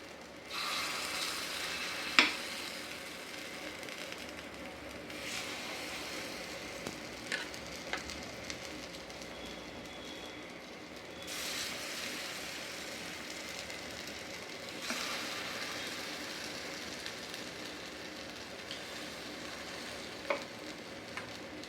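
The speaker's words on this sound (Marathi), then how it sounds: "आता हे आपण थोडंसं ब्राऊन होईपर्यंत थोडं शिजवून घेऊया दोन्ही साईडनं." Appe sizzle as they fry and brown in a pan: a steady soft hiss of oil lasting throughout, with occasional small clinks and scrapes. Close by, with no speech.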